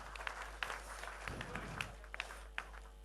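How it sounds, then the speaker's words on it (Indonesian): Applause at a party congress in Bali comes as a faint, distant wash of crowd clapping, with scattered sharper claps over a steady low hum. "Kita berikan tepuk tangan yang meriah,"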